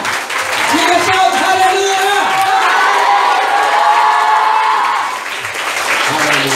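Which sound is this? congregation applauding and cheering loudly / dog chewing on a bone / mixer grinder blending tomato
congregation applauding and cheering loudly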